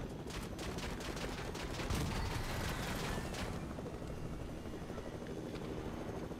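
Rapid gunfire in the video game Fortnite, dense rattling bursts of shots over a loud constant rotor-like drone, with the shooting thinning out into steady noise after a few seconds.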